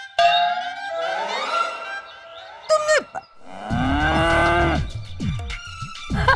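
A buffalo on a family dairy setting lets out drawn-out, bellowing moos, loud and close, several calls in succession with a short gap between them.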